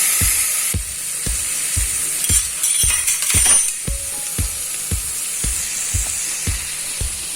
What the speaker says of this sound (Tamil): மீடியம் ஃப்ளேமில் வச்சு வதக்குங்க